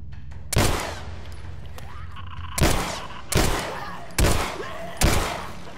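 Gunfire in the video game The Last of Us Remastered: five sharp, loud shots spaced about a second apart over a steady background hum, with no speech.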